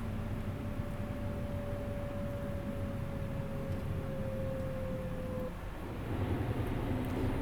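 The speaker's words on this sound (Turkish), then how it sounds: "Şöyle retarder de dinleyelim." A Neoplan Starliner 2 bus retarder braking in Euro Truck Simulator 2: a steady, low mechanical drone with a faint whine that holds, then drops off as the rumble shifts.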